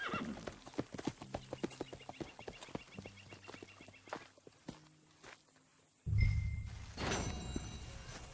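A horse in the video game Red Dead Redemption 2 walks with a steady, rhythmic clip-clop of hooves, then lets out a loud, close neigh near the end.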